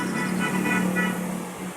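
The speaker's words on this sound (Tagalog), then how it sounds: "Medyo mabigat po yung traffic." Heavy road traffic heard from a rider's seat, a steady wash of car engines with a low sustained drone and a brief horn-like toot, continuous and fairly close throughout.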